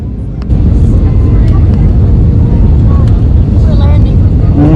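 Steady, loud, broadband engine roar inside a passenger airplane cabin during the landing approach, continuous after a sudden rise, with voices faintly talking over it.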